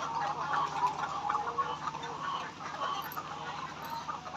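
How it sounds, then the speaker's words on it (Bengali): Layer chickens in a hot poultry shed, many birds clucking and murmuring together in a close, continuous flock chatter with a steady low hum behind them. "সব মুরগি গলা বের করে দিয়ে বাহিরে হাদাইতেছে"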